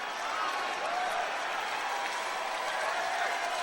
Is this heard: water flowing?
no